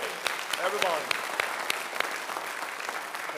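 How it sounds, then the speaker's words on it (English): Church congregation applauding 2019 high school graduates at a Sunday morning service, a steady wash of clapping with sharper individual claps, while people talk and call out over it. "Let's give them a great big round of applause"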